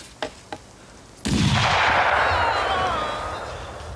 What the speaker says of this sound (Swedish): Ett välriktat skott från Gordons bössa och saken är klar.